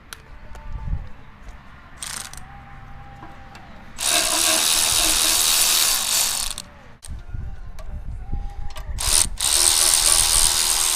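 A ratchet wrench clicks rapidly as it loosens exhaust manifold bolts on a 440 Mopar engine, with long bursts of loud metallic ratcheting broken by short pauses and small clanks of metal nearby.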